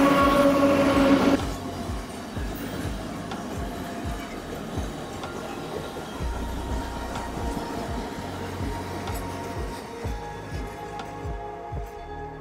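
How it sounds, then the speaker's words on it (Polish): A train rumbles past nearby with steady rhythmic wheel clatter, loud at first and then settling into a continuous rolling noise. "Przejedzie pociąg"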